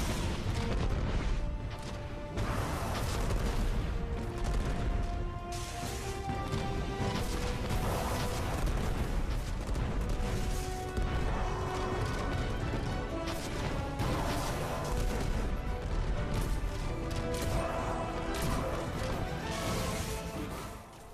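Continuous Destiny combat: repeated rocket launcher blasts and gunfire with crashes and booms, layered densely throughout.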